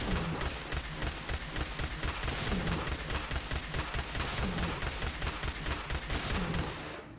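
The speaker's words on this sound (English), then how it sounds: "While it doesn't have the craziest damage per shot, it does fire pretty fast, allowing for a lot of shots on target." A classic laser pistol in the Fallout 4 video game firing at a Deathclaw, firing a rapid, steady stream of sharp zapping shots at an even rhythm throughout, loud and close.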